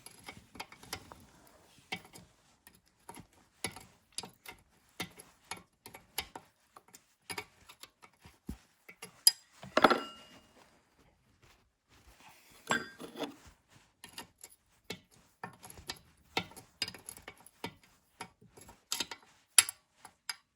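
A spanner works a bolt on a Lister D stationary engine during restoration, giving faint, scattered ratchet-like clicks and small metallic ticks with irregular spacing and a couple of slightly louder knocks, in an otherwise quiet room.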